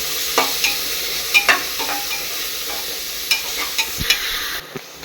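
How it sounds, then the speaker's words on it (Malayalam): Onions sauté in a pan while a spoon stirs them, making irregular scraping and tapping strokes over a soft, low sizzle, close by and with no talking. "അപ്പോൾ ഇതാ സബോള ഒക്കെ ഇട്ടുകൊണ്ട് ഒന്ന് വഴച്ചെടുക്കട്ടെ കേട്ടോ"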